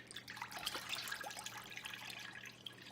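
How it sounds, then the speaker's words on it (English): Plum juice is poured into a stock pot, making a faint trickling, splashing liquid sound with small drips over a low steady hum and no talk. "now that we have our 5 cups of plum juice, we're gonna pour it"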